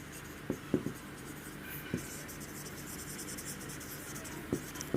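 Chalk or marker writing on a board during a Class 12 physics lesson on Gauss's law, heard as several short, sharp scratchy strokes in irregular bursts against a quiet room background, with no talking.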